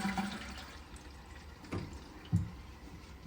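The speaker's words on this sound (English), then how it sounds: "Give it a flush and it should be all good." A toilet in a van, fitted with a new flush seal, is flushed. Faint, steady rushing water carries a few soft thumps and gurgles, quiet and close, with no voices.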